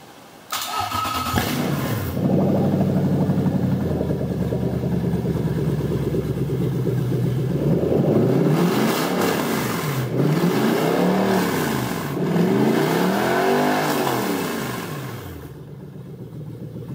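A Toyota 3UZ V8 running on 1UZ engine management from a Crown cranks and fires, settles into a loud close idle, then revs up and down several times in repeated rising and falling sweeps before dropping back.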